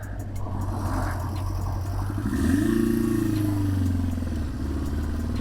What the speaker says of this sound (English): I love the sound of these old original 4-cylinder bikes.